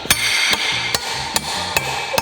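Six sharp hammer blows land at an even pace, close and loud, each ringing briefly, as a stopper is hammered into place.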